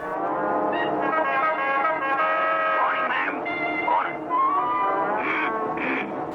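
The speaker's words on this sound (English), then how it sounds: "But his horn honking and Stokey smoking annoys his new car" A long, wavering horn blares continuously for several seconds, its pitch sliding and wobbling like a cartoon car horn.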